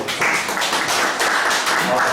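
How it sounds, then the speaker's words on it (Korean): An indoor audience at a teachers' session gives a short, steady round of clapping, a dense patter of many hands close by that lasts about two seconds. "너무나 박수 한번 드려야 됩니다"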